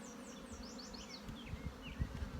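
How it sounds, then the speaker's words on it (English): Honey bees buzz in a hive box, a soft, close, continuous hum with individual bees' flight tones rising and falling over it, plus faint handling bumps. "Now this is a box of bees"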